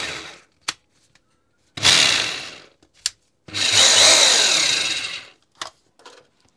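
Short bursts from a Nocord NHD 800 rotary hammer switched to reverse: two longer loud whirring runs separated by brief clicks and taps of the trigger and switch, each spin-up cutting off abruptly.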